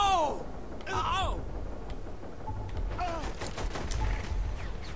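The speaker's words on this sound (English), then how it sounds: "he is still fucking shooting that gun" Enemy gunfire in Saints Row: The Third, a fusillade of shots in bursts across the scene, mixed with in-game voices and effects.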